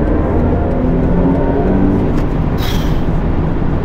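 A BMW i5 M60 electric car in sport mode gives off a steady, loud hum inside the cabin as it accelerates, with road rumble underneath and a brief rising tone near the end.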